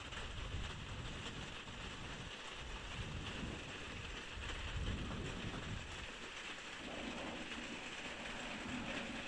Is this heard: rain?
yes